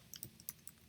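A handful of quick, light computer keyboard taps for entering text in layout software, soft and close with uneven spacing over a brief moment.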